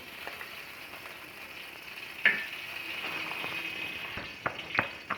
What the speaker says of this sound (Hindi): अब मैं थोड़ा सा ऑयल जो है ये तवे पे डालूँगी